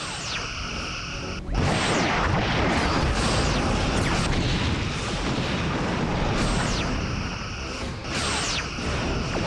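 A heavy cruiser blowing up in the Star Trek: Bridge Commander space combat game, a sudden loud blast rolling into a sustained roaring explosion with sweeping whooshes and rumbling debris.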